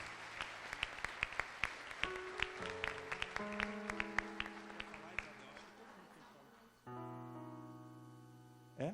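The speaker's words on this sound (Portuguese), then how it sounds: "dê um aplauso para eles, irmãos, para o Senhor Jesus" A church congregation at a Saturday night service applauds in a steady run of claps over sustained keyboard chords, with a voice talking at moments; the music swells louder near the end.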